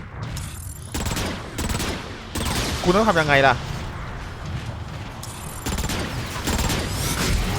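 Rapid bursts of gunfire from a weapon in the video game Transformers: Rise of the Dark Spark, loud and close, coming in clusters under an excited commentator's running talk.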